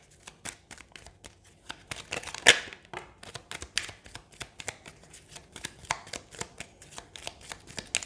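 Lenormand cards are shuffled close by, giving many rapid soft flicks and snaps at an uneven pace, one sharper slap early on, with no talking.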